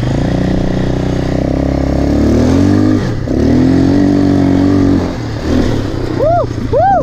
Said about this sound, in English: I've never rode a quad before.